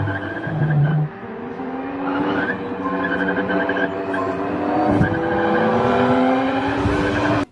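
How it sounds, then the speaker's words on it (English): An old Formula 1 race car drives through the streets of Monaco, its engine a loud, continuous high-pitched wail that shifts pitch as it accelerates and changes gear, heard up close throughout with no talk. "I've got a camera mounted to an old F1 car going through the streets of Monaco"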